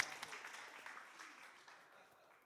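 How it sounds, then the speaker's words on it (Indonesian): A church congregation applauds for Hatta, a fairly faint, steady wash of clapping that fades out over a couple of seconds. "Beri tepuk tangan buat Hatta."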